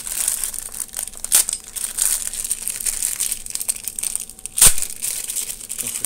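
A plastic bag of phosphate remover for a Fluval 07 series 407 canister filter crinkles and crumples close up in uneven handling bursts, with a sharper crunch near the end.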